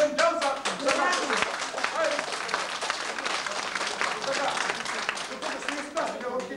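A crowd claps steadily at a gathering marking the first dance troupe in Simitli, founded in 1956, with dense continuous applause throughout and faint voices mixed in.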